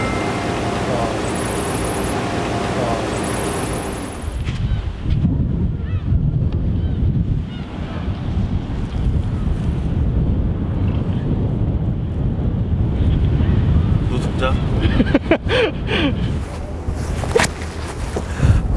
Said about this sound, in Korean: 지금 바람이 살랑살랑 불고